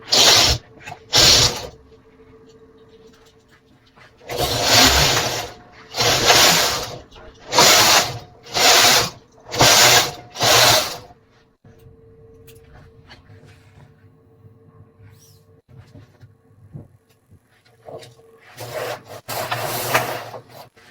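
An SK280 knitting machine carriage sliding back and forth across the needle bed as it knits rows, each pass a loud rasping, clattering sweep in a regular rhythm, separated by brief quieter gaps with faint background hum.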